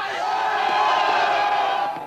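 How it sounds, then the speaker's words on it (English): A dense crowd outside the European Central Bank in Frankfurt counts down to the euro's launch, a loud, sustained roar of many voices with rhythmic shouting, close and steady throughout. "Outside the European Central Bank, which runs the project, crowds counted down the seconds to the euro's arrival."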